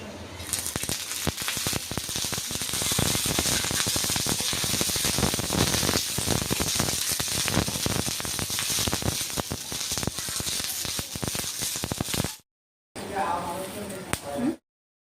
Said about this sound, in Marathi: मिरच्या भाजून घेतोय आपण आता. थोडं तेल टाकून घेणार आहेत आपण मिरच्या भाजताना.